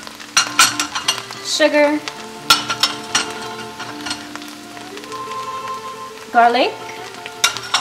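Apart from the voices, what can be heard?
onions sautéing and sizzling with masala in pan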